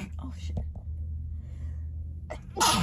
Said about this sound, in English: Hold on, I gotta sneeze.